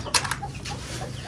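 A chicken clucks close by in a few short, rough bursts over farmyard background noise.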